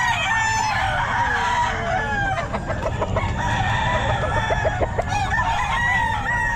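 A stag rooster at Bocaue pet market crows loudly and close, its drawn-out calls mixing with clucks and other fowl over a dense, busy market background.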